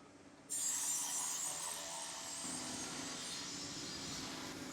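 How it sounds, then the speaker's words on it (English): A mechanical power saw makes a square cut through gasketed drain pipe, a steady grinding rasp that starts abruptly and runs loud and continuous to the end. "Using a mechanical saw, we make a square cut."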